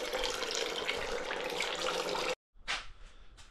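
Used engine oil drains from a car in a garage, a close, steady splashing pour for a little over two seconds that cuts off abruptly, followed by a couple of short gurgling spurts.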